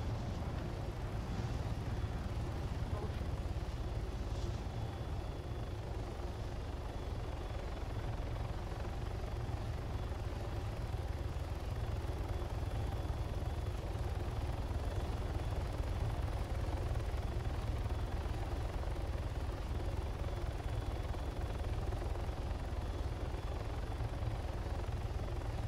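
Steady, loud helicopter rotor and engine drone in the video game Arma as it lands on a city, continuous and close for the whole stretch with little change.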